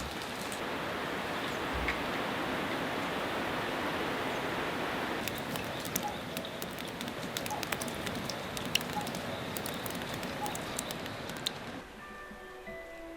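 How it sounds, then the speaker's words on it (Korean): Steady rain pours down on a mountain hermitage temple in a dense, even hiss, with scattered drips and taps standing out, before the downpour suddenly drops off near the end. "처마 밑 풍경은 제 소리를 멈추고 조용히 빗소리에 귀를 기울인다"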